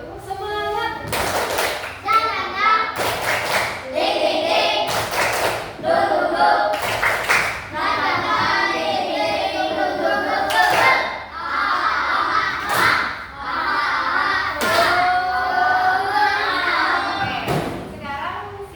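A group of children in a classroom performs a rhythmic spirit clap, bursts of loud unison claps and stamps alternating with chanting and shouting voices, energetic and close.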